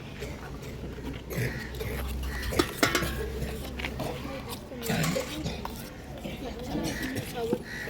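A utensil stirs ayurvedic soap raw material mixed with charcoal in a container, giving irregular scraping clinks and knocks throughout, with people talking over the mixing.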